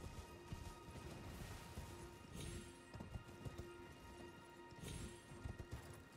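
A horse in the Elden Ring video game trots with quiet, repeated hoof clip-clops in an irregular rhythm over a faint steady game background.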